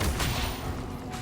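A fire spell cast during Hogwarts Legacy combat, a brief, dense, explosive whoosh of flame amid loud battle noise.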